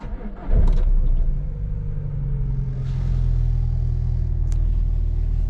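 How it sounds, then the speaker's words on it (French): A car running on 100% ethanol cranks and fires in cold-start mode, then settles into a steady, loud low idle that holds to the end. "Je mets le contact."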